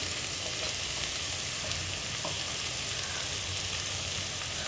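Prawn masala sautéing in a pan, a steady close sizzle and crackle of frying with occasional soft stirring scrapes, continuous and even throughout, no voices.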